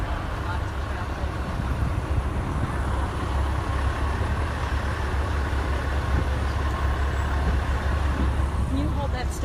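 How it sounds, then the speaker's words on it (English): Heavy highway traffic on I-75 during the Hurricane Irma evacuation: a continuous loud roar of cars and trucks passing at close range, steady and unbroken throughout. "Lots of traffic."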